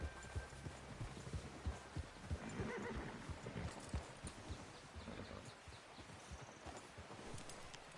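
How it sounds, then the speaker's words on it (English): Horse neighs and clip-clopping hooves in the open-world Western video game Red Dead Redemption 2, a loud whinny over a steady rhythm of hoofbeats on the ground, with no talk. "Is that horse okay, Arthur?"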